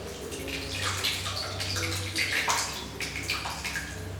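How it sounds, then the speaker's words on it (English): Curd poured into muslin cloth hung over a basin while making shrikhand, a close, continuous wet splashing and gurgling pour with small drips, alone. "I have hung the muslin cloth like this on top of a basin, and now I'll take this curd and pour it into this."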